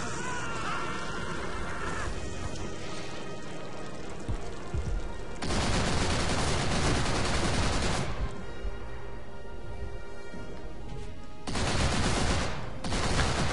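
A mounted turret machine gun in Call of Duty: World at War fires long sustained bursts, loud rapid rattling broken by short pauses, with battle noise and explosions around it.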